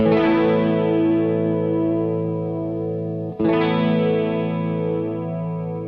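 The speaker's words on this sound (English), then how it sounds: "In the middle you have your chorus sound" Sustained guitar chords through a Jackson Audio New Wave stereo analog chorus pedal, with a shimmering chorus effect, strummed twice with a brief break before the second chord rings out, no voices.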